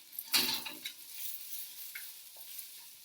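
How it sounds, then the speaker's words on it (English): Small pieces sizzle while toasting in a pan, with a loud burst of crackling and stirring scrapes near the start, then a softer steady sizzle with occasional clinks. "You're getting a nice sizzle, breaking up any extra clumps"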